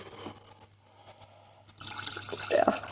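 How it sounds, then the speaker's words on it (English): Water pours into a pan of reducing homemade pasta sauce. Faint clinks and taps lead into a loud, splashing rush of liquid near the end. "might add a bit more water"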